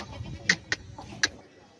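Short bleats from a large, heavy sacrificial goat for sale, three quick calls close by over a low murmur of background noise.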